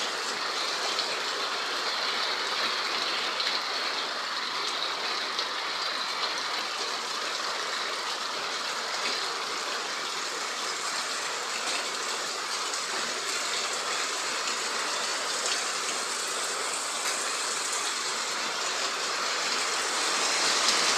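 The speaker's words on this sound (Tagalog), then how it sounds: "Grabe, pasuga sa ulan." Steady, dense downpour of heavy rain, a constant loud hiss that continues unbroken throughout with no voices.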